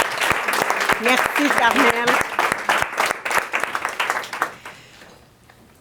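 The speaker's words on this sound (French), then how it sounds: "Donc, on va l'applaudir." An audience at a benefit dinner lecture applauds for Carmel with sustained clapping that thins out and fades, while someone speaks briefly over it.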